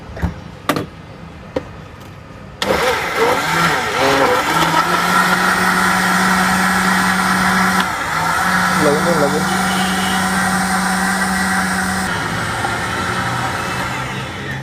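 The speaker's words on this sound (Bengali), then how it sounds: "এবার এটাকে ব্লেন্ডার করবো ভাই।" An electric blender whirs steadily as it mixes pineapple, milk and ice into juice, its motor hum running continuously for many seconds after a few short knocks, with someone talking over it.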